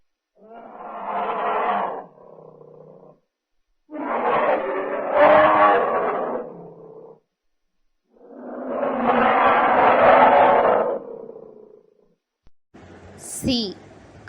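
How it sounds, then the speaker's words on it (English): Bear growling, three long, deep, rough roars separated by pauses, each loud and close, followed by a brief higher squeal at the end. "B. Bear."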